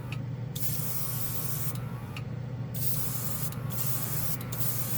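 A Casubaris portable airbrush sprays paint in a loud, continuous close hiss with brief dips and restarts as the trigger is pulsed, a motor drone underneath.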